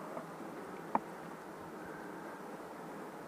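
Honeybees buzz softly in a low, steady drone at an open beehive that is about half full of comb, with one faint sharp tap partway through and no talking.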